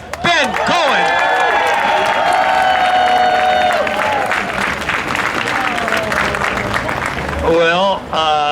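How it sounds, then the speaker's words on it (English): An outdoor crowd at a human rights vigil applauds and cheers for Ben Cohen, loud clapping mixed with whoops and shouted voices, some tonal cries rising over the crowd near the start and end. "So give a big round of applause to Ben Cohen."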